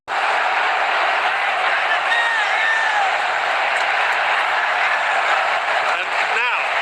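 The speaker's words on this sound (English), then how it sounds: "And now listen to the National Stadium. It's got the crowd going, that goal." A big crowd at the National Stadium roars after a goal in an Indonesia versus Singapore football match, a loud, dense and continuous wash of cheering, with a commentator's voice running over it.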